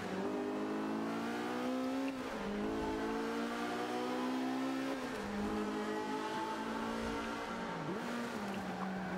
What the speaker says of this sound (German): Die ganze Zeit sind die Reifen am Arbeiten.